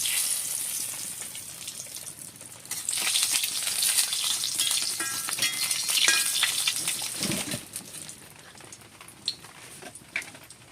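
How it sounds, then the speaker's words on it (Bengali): Dried red chillies and bay leaves dropped into hot oil, a dense close sizzle and spitting crackle that swells and then gradually settles over several seconds, with a few sharp pops near the end and no voices. "তেল গরম হয়ে গেছে, দুটো শুকনো লঙ্কা কেটে দিয়ে দিচ্ছি। আর দিচ্ছি দুটো তেজপাতা।"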